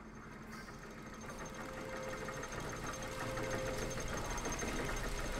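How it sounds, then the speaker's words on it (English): A machine engine chugs steadily in the video game The Book of Unwritten Tales 2, a continuous low mechanical hum with faint knocking that grows slightly louder and holds, with no talk over it. "Better take a closer look at the engine."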